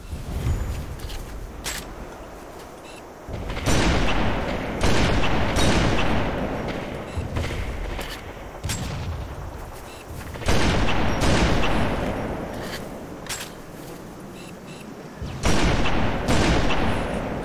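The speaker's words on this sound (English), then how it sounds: "I kind of just want to use the sniper now" Sniper rifle shots in Halo 3, several loud booming blasts spaced a few seconds apart, each with a long echoing decay over steady game ambience.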